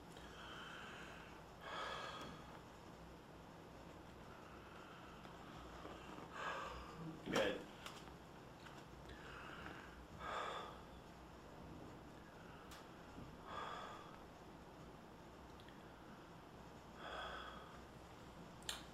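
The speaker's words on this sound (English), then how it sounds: "Big deep breath." A patient takes slow, deep breaths during IPPB (intermittent positive pressure breathing) respiratory therapy, a series of soft, close inhalations and exhalations spaced a few seconds apart over a hushed room hiss.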